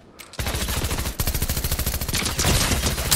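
A submachine gun fires in rapid automatic bursts in the video game Fortnite, loud and close, with a brief pause before the sustained rattling resumes and intensifies.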